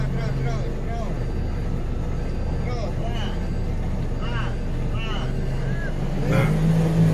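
An off-road vehicle engine accelerating on rough terrain, a steady mid-level drone with rising whining tones, under constant conversation in Indonesian.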